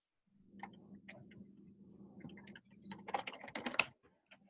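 Keys clatter on a computer keyboard while meeting takeaways are being written down, a run of soft close clicks that grows into a denser, louder burst of typing near the end, with no talk over it.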